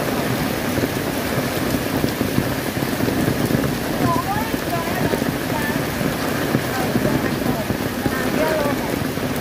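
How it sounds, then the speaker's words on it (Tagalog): Heavy typhoon rain pours down steadily under an amber rainstorm warning, a dense, loud hiss that runs without a break, with faint voices in the background. "Heavy, heavy rain."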